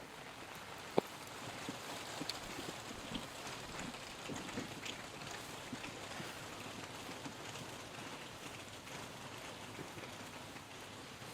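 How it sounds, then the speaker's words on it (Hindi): Steady soft rain patters and hisses throughout in Coorg, India, fairly quiet, with a single sharp tap early on. "बारिश होने लगी"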